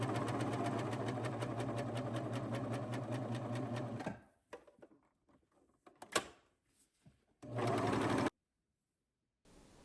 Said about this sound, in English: I'm going to serge right off the side.